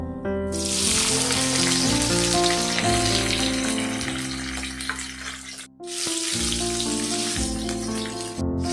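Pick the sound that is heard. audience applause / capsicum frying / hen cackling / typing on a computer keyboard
capsicum frying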